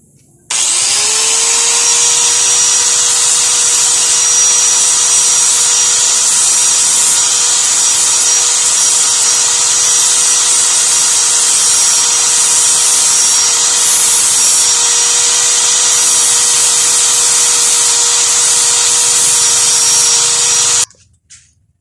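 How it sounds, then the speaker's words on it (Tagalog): Angle grinder flattening the side of a homemade inverted roller speargun part: a loud, steady high-pitched whine runs continuously for about twenty seconds with a constant grinding hiss, close up and without talk, then cuts off abruptly. "Kunin muna natin yung grinder natin"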